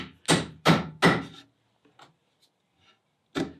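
Three quick, loud hammer blows drive nails into wood, a few faint taps follow, then one more solid strike after a pause.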